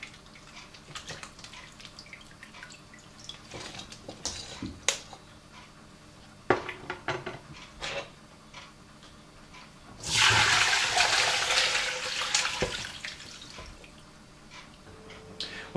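Nettle soup stock being strained after an hour of simmering, liquid pouring in a loud, steady rush for several seconds, preceded by scattered kitchen clinks and knocks.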